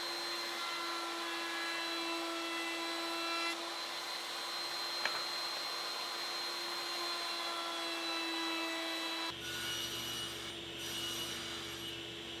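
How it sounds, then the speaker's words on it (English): Steady high whine of a router cutting a quarter-inch roundover along cherry tenon stock, running continuously up close, then shifting pitch near the end as the cut finishes. "I need to round over the tenon stock with a 1/4 inch radius roundover"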